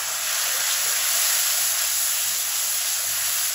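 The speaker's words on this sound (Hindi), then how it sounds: "इसको अच्छी तरह आपने भूनना है कि मसाला जो है ना वो ऑयल छोड़ दे" Masala with Kashmiri red chilli powder and salt fries in oil in a karahi for a restaurant-style vegetable dish, giving a loud, unbroken hiss and sizzle with no talk.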